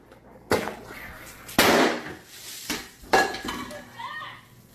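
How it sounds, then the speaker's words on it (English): Firecrackers go off indoors in a house as a string of sharp, loud bangs and crackling pops spaced irregularly over a few seconds, with quieter rattling in between. "Firecracker. Here we go."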